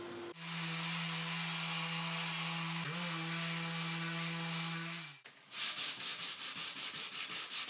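A power sander works over wooden table legs made from salvaged bin wood, a loud continuous whir holding steady for about five seconds before cutting off, followed by rhythmic rubbing strokes.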